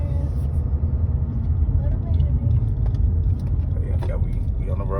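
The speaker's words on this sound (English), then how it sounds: "As you can plainly see, the car is accelerating" A car accelerating along a road after a step motor replacement, with a steady low engine rumble and road noise lasting throughout at a close, even level.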